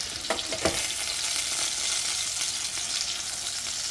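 Lamb chops searing in a hot pan give a loud, continuous sizzle with a couple of sharp crackles near the start, heard up close without talk.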